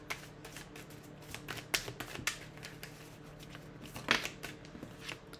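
Tarot cards being shuffled by hand, close and fairly quiet, making a string of soft riffling flicks and snaps with a few sharper bursts, alone without talk.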